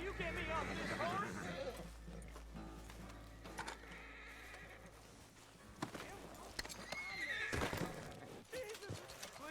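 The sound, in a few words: horse whinnying, video game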